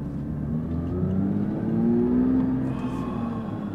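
A 2022 Porsche 911 GT3 pulling away after clutch release, its engine note rising steadily from inside the cabin, loud and continuous with no talking.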